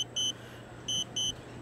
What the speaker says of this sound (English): this beep is getting on my nerves